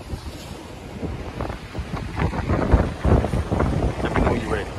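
Gusty wind buffets the microphone on a fishing pier in Miami, Florida, a loud, rough rumble that swells and surges, with a murmur of waves beneath it.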